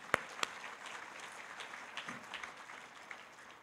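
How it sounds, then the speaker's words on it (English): Faint, thin applause from a modest audience at a youth invention awards ceremony, with two sharper claps near the start and scattered clapping trailing off at low level. "let's give him a round of applause"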